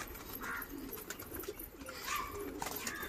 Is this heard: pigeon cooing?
yes